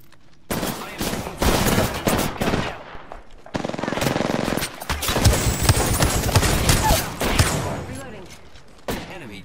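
Rapid bursts of automatic gunfire in the video game Apex Legends, several loud clattering volleys separated by short pauses, close and dominant throughout.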